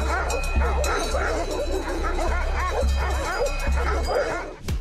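A dog barking repeatedly while confronting a bear approaching sheep, rapid loud overlapping yips and barks in a continuous frantic stream.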